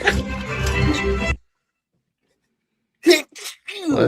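A person sneezing, a burst of loud close sneezes that comes after a stretch of speech and a sudden silence, with more talk around the sneezes.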